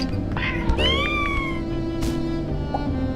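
A cat meows loudly and close with a drawn-out, wavering caterwaul near the start, then shorter cries follow over a steady background hum.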